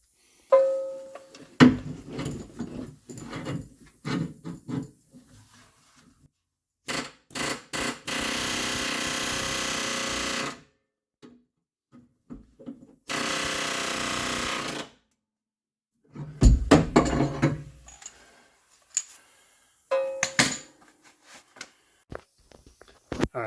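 A pneumatic air hammer knocks riveted leaf spring hangers off a vehicle frame, in two loud sustained bursts of rapid hammering separated by quieter clanks, scrapes and handling noises, with no talk.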